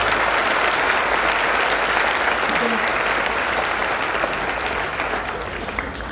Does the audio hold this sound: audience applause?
yes